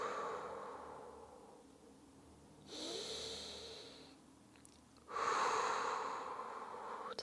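Slow, audible breaths drawn in and blown out during a beginner Pilates session, two long airy exhales standing out clearly in a quiet room with no talking over them.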